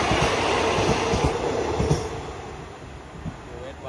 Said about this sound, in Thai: สำหรับขบวนรถเร็วที่ 169 นะครับ